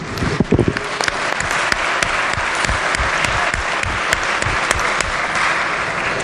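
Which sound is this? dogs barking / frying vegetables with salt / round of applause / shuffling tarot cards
round of applause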